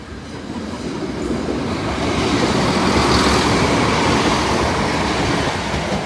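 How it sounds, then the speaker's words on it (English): A train rolls through Brayford level crossing, a loud continuous roar of wheels on rail that builds and holds throughout, with a faint squeal above the rumble. "Second train approaching."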